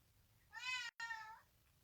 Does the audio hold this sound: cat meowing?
yes